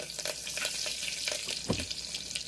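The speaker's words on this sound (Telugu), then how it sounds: "ఇప్పుడు కరివేపాకు వేసేద్దాము." Curry leaves tossed into hot oil for tempering gongura pappu give a soft, continuous frying hiss dotted with small crackles and one louder pop, fairly quiet and close.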